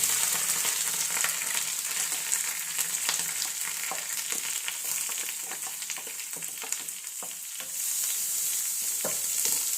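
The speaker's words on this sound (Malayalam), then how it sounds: "അരപ്പ് ആദ്യമേ ഇങ്ങനെ ഒന്ന് ചൂടാക്കണം" A freshly ground paste of coconut, cumin, garlic, onion, green chili and turmeric heating in a pan: a continuous crackling sizzle broken by repeated stirring scrapes, close up, with no talking.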